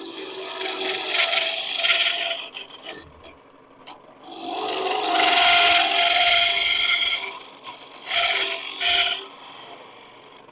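A woodturning tool hollows a small wooden piece on a spinning lathe, giving close, rasping cuts in uneven bursts with short pauses between passes.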